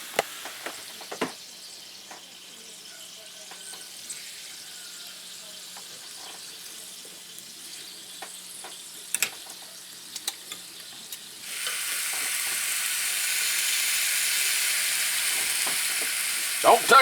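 A steak sizzles as it cooks in a waffle iron, a quiet sputtering with small clicks and clanks that swells into a steady, louder hiss partway through.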